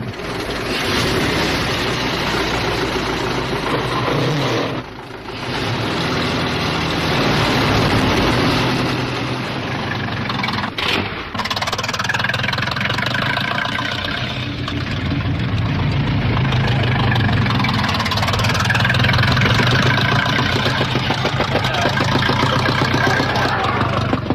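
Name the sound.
1906 Grand Prix racing cars' engines idling, Fiat and Renault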